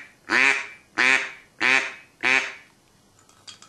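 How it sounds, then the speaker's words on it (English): A duck call blown hard gives four loud, evenly spaced quacks, each a bright, reedy blast with a falling tail, followed by a short stretch of faint background sound. "To get a call to go soft or loud depends on how much air you give it."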